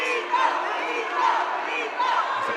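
A crowd chants in unison at a Warrior Fight Nights combat event. The rhythmic group voices are loud and sustained, with brief surges and a hall-like wash of crowd noise behind them.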